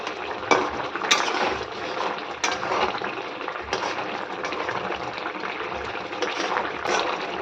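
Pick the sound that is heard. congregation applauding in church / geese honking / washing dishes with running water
washing dishes with running water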